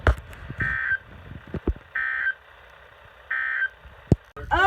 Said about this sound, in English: The warning alarm tone will be activated for hazardous watches and warnings.